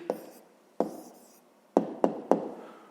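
Numbers are written by hand in a maths exercise, most likely pen or chalk on a surface, heard as five short, crisp taps and scratches in an irregular rhythm, close by and with no voice.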